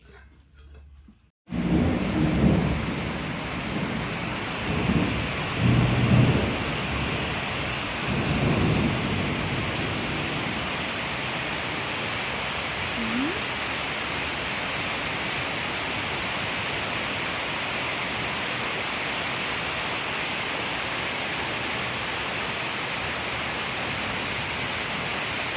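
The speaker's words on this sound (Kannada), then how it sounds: "ಆವಾಗಲೇ ಮಳೆ ಬರ್ತಿತ್ತು" Steady heavy rain pours down without pause, with low thunder rumbles rolling through the first several seconds before the downpour continues alone as a dense, even hiss.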